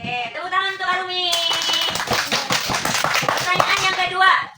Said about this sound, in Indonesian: tepuk tangan untuk Arumi.